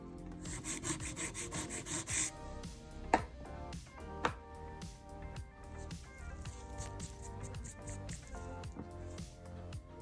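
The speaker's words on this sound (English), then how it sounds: "keeping my file completely flat to the tip when I am filing." A nail file strokes back and forth across a fingernail tip while shaping it, giving a quick rhythmic rasp at first, then softer, uneven scraping with a few light taps, close and fairly quiet.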